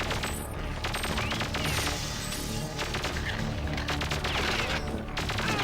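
Rapid, dense weapon gunfire from the video game Perfect Dark, loud and continuous, with bursts of shots layered over booming game effects.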